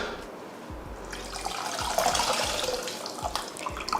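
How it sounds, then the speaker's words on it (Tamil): Water pours steadily into a pot of rasam with tamarind extract, a soft continuous splashing that grows slightly louder, with a few low thumps beneath. "இப்போ இதில் நம்ம புளி கரைச்சோலையும் அந்த தண்ணியை சேர்த்துடலாம்"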